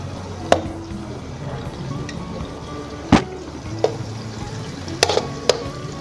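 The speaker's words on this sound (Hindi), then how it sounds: "ये देखें प्याज हमारा अच्छे तरीके से भुन रहा है।" Onions fry in a pan for aloo keema with a steady low sizzle, broken by several sharp spatula clinks and scrapes against the pan.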